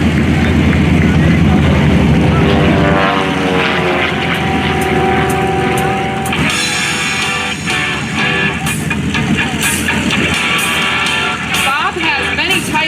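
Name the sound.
aerobatic propeller plane performing snap rolls at air show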